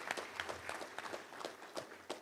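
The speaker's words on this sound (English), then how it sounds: "let's give him a round of applause" Applause at a touchdown club luncheon honoring Chris Peterson, a former UALR athletic director: a faint, distant spatter of clapping from a modest crowd, uneven and thin, fading in and out.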